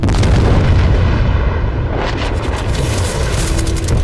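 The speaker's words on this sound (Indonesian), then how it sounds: "para kepolisian juga meledakkan tempat penyulingan keluarga Bondurant" A moonshine distillery blown up by police in a film scene, a loud sustained roaring blast with rumbling debris and crackle that fills the whole stretch, with no voices.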